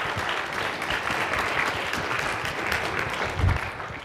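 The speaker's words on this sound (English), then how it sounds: "Give Janine a round of applause." A room full of conference attendees breaks into steady, dense applause after a mock interview demonstration, clapping continuing evenly throughout with no voices over it.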